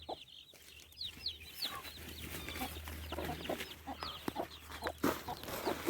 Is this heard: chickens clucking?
yes